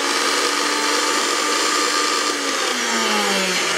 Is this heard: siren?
no